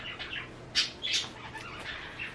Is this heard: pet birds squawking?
yes